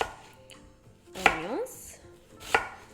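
Fresh onions chopped on a board for a pizza topping, with a few distinct knife strikes spaced apart and quiet handling in between.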